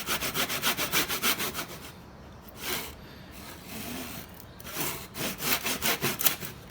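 Hand saw cutting a small biscuit from a piece of wood on a workbench, steady rhythmic push-pull strokes, close and loud, slowing briefly mid-cut before resuming a quicker rasping rhythm.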